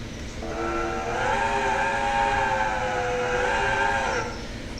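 The five-chime Chinese horn of model locomotive NYS&W 142 Belle Dell sounds one long, steady, harmonious chord of several tones, fairly close and alone, for about four seconds.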